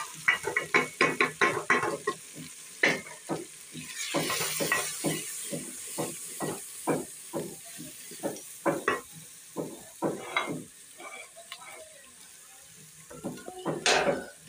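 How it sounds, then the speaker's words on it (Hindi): Dry spices fry with ginger and garlic in a pan, giving a close, steady sizzle broken by repeated scraping and stirring strokes of a utensil against the metal, with no voices. "अब हम इसमें खुश्क मसाले भून लेंगे।"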